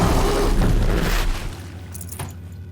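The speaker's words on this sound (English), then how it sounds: "Thought that explosion would have done more damage than that." A loud, booming explosion in the video game Horizon Zero Dawn rumbles for over a second, then fades into a softer decaying tail.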